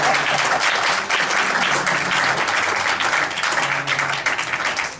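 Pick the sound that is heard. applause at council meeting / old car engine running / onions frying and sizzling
applause at council meeting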